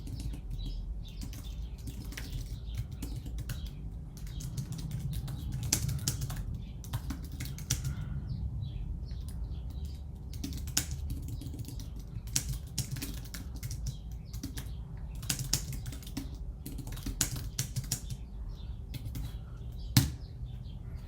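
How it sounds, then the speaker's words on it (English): Keys clattering on a computer keyboard as someone types, a steady run of light clicks with a few sharper taps, close and moderately quiet over a low background hum. "So this is where the user types in something about themselves"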